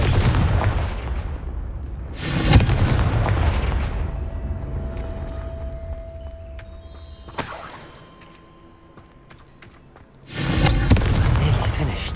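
Confringo fire spell blasts in Hogwarts Legacy, heavy booming bursts at intervals with long rumbling decay over ambient game background, loud and close.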